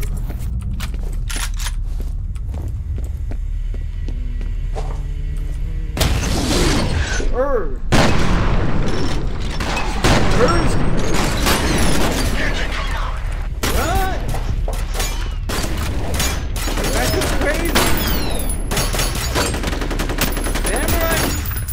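Gunfire in the game F.E.A.R., including shotgun blasts, loud and close in repeated bursts with booming impacts through the second half, and voices heard intermittently among the shots.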